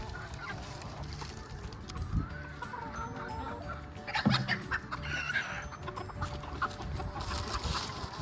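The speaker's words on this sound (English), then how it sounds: "Now that one is the fancy chickens with the big hair." Fancy crested chickens with big fluffy head feathers cluck at an outdoor poultry show, their calls scattered and moderately close over steady background noise and a brief louder burst.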